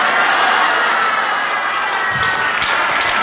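Loud, dense applause and cheering from a comedy show audience, a continuous wash of clapping and excited voices filling the room without letup.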